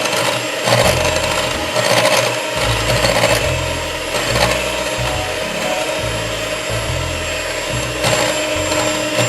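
Electric beater whirring through eggs and powdered icing sugar for pineapple cake batter, a steady motorized buzz that dips and surges as the beaters move through the bowl, close and continuous.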